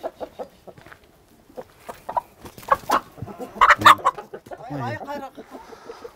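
Black chickens of a pure breed, including a black Cochin, cluck and call at a poultry farm, a run of close, irregular clucks and squawks rising to a busier burst of several birds.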